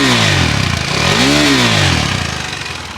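Close and loud, a KTM Adventure 390 idles in a steady beat before one quick throttle blip swells and drops back, then the idle settles and fades slightly.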